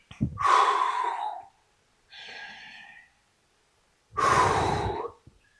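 Heavy, breathy exhalations during a low-impact fitness routine for people over 50 come in three separate puffs, the first and last loud and forceful, with a softer one between them, close to the microphone.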